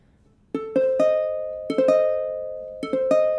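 Three rounds of a diminished chord on piano, each a quick rising three-note roll left to sustain and fade, played close with no voice present.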